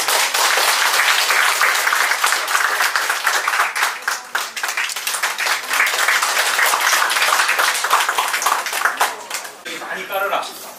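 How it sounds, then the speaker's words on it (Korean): Audience applause at a Korean business presentation on skin cream, loud and close, with sharp individual claps over a dense wash that dips briefly midway and thins out near the end, with a few voices mixed in. "우리 힘차게 박수 부탁드립니다"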